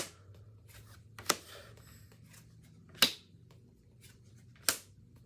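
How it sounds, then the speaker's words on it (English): Tarot cards being shuffled by hand, heard as three sharp, faint riffling snaps spaced a second or two apart against a quiet room. "There's 2 cards fell out while I was shuffling face down."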